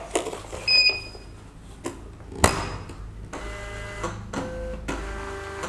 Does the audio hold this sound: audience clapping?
no